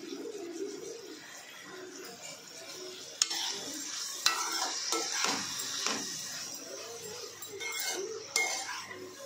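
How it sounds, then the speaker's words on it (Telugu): A spoon scrapes and stirs a bean and tomato curry in a pan after a pinch of turmeric goes in, soft sizzling underneath with several sharper clinks and scrapes against the metal, fairly quiet and without speech. "చిటికెడు పసుపు వేసుకొని తిప్పుకోవాలి."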